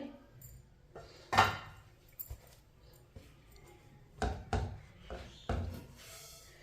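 A spoon scraping and clinking against a hot wok while stirring semolina for halwa: a few sharp metallic knocks and scrapes spaced irregularly, close and fairly quiet, with no talking.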